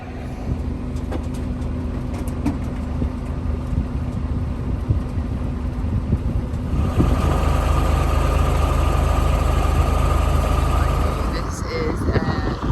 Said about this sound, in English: It is a 12-litre 6-cylinder inline monster